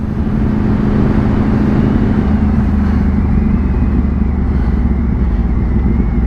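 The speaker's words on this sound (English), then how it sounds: "here I am, pootling along on a near on 200 horsepower super sports bike" Steady, loud engine drone of a Yamaha YZF-R1 1000cc superbike cruising at low speed on the road, continuous and close throughout with no talk.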